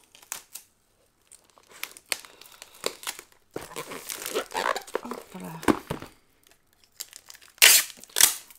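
Clear adhesive tape is pulled and torn off in several crackling bursts, with crinkling between strips and a voice speaking briefly.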